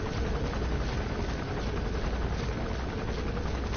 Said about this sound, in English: And then I'll just hit the helicopter when it circles around.